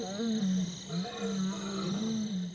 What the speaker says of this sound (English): we hear roars in the distance, and Vumbi perks up, and then they roar back